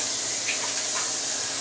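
Tap water runs steadily into a baking pan, a continuous close hiss and splash with no pauses and no talking.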